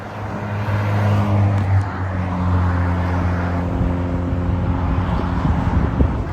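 A Peugeot 205 passes on a Normandy motorway with a loud engine drone whose tone holds steady and then steps as it goes by, close and prominent, with other traffic noise after it.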